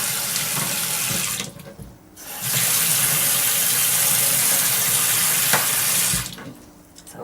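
Tap water gushes steadily into a plugged sink to soak spray gun parts, loud and close, briefly easing off near two seconds and again at the end.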